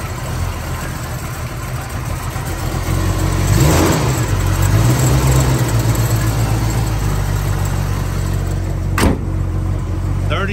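A classic car's original engine idles steadily and close by, with a brief swelling rev midway, under a continuous mechanical hum and a sharp click near the end.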